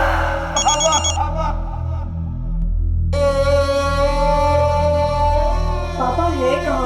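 A telephone rings on and on without being picked up, a steady electronic trill with a low hum beneath, close and fairly loud; the ringing keeps going with no one answering.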